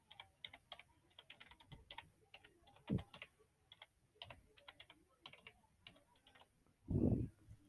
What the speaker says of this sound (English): you would type here the instruction for submission.